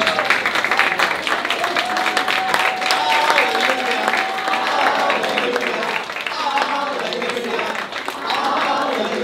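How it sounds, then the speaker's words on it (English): An audience at a Catholic Life in the Spirit seminar gives a sustained, dense round of applause with cheering voices mixed in, loud and continuous throughout. "Stand up and give Jesus a big round of applause."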